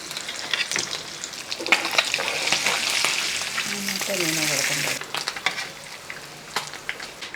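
Steady crackling sizzle of sardines frying in hot oil, close up, with occasional sharper pops and a brief clatter toward the end.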